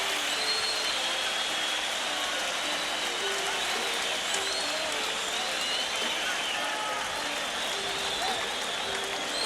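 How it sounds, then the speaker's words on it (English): A boxing arena crowd roars in a continuous wash of cheering and applause, dense and unbroken for the whole stretch, heard from a distance with no clear individual voices. "Let's listen to that crowd"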